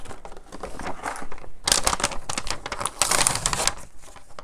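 Clear plastic foil from a perfume box is crinkled and scrunched up close, in uneven bursts of crackling that grow louder in two main flurries.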